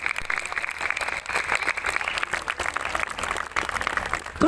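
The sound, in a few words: audience applause welcoming a performer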